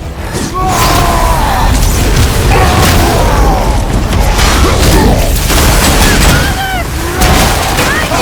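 Incoming fire and explosions crash through a God of War battle: loud booms and bursts keep coming over a dense, roaring mix, with shouting voices in between.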